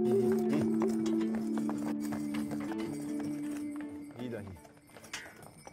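Horses being led on foot across the Muránska planina uplands, hooves clip-clopping steadily at close range, with a low droning tone and people talking over it.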